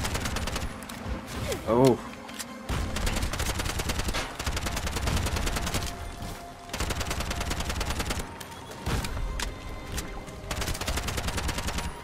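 Rapid automatic gunfire at an enemy in the video game Bright Memory Infinite comes in several loud sustained bursts separated by short pauses, with a brief voice exclamation.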